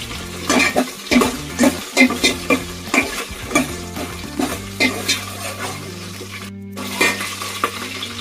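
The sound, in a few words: frying green chillies in a pan for pulao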